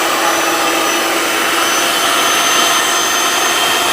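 A dough mixer runs while kneading dough for fried Korean-style pentol, giving a loud, steady motor whir and rush of noise that holds unchanged throughout, with no voices.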